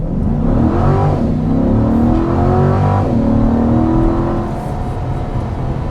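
A 2021 Chevrolet C8 Corvette Convertible with standard exhaust accelerating hard at three-quarter throttle, its engine climbing through the revs in a loud, close run with a gear change midway before easing off.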